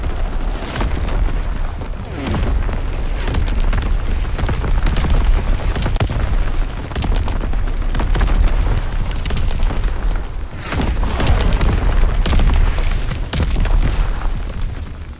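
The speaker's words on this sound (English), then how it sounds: "Incoming enemy artillery. Get to cover." Incoming enemy artillery explosions from Call of Duty: WWII boom and rumble continuously, with heavy loud blasts rolling one into another through the whole stretch and no speech over them.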